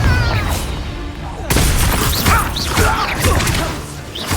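Explosive Confringo spell blasts during a Hogwarts Legacy combat fight: a loud, sudden burst about a third of the way in, followed by continuous crashing, booming clatter of battle, with voices mixed into the dense noise.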